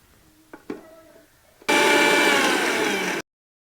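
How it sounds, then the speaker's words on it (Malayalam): A mixer grinder whirs loudly and steadily for about a second and a half, grinding roasted ginger in a home kitchen, after a few faint clinks, then stops abruptly. "ഇത് തണുത്തതിന് ശേഷം ഒന്ന് പൊടിച്ചെടുത്ത് കൊണ്ടുവരാം"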